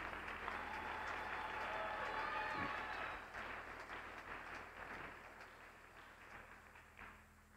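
A church congregation applauding with a few cheers, a dense burst of clapping that holds strongly for a few seconds and then thins out and fades.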